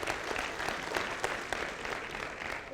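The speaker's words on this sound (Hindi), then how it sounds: "जोरदार तालियां हो जाए" Lively applause from a seminar audience at a network marketing event, a dense steady clapping with a few sharper claps standing out, sustained throughout without speech over it.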